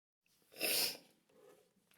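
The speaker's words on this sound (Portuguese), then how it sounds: "Comecei a espirrar." A single sneeze, loud and close, bursts out after a brief silence and trails off into a softer breath or sniff.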